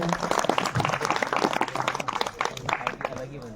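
Loud applause at a farewell ceremony in a village in India, dense clapping with talk mixed in throughout.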